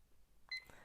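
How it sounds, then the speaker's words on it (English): A kitchen-style timer going off with a short electronic beep, brief and fairly quiet against a near-silent room. "And there goes the timer."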